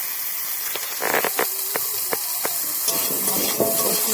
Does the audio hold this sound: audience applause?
no